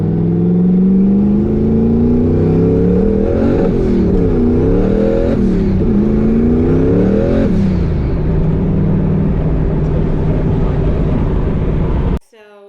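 A Ford Shelby GT350 with a 900 horsepower boosted build accelerates hard from inside the car, the engine revving up through several rising and falling gear pulls before settling into a steady cruising drone.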